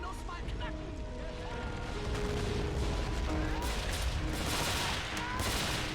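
Cannons boom in a winter battle in the video game Army Men, a dense, continuous barrage of loud blasts and crackling fire layered over someone talking throughout.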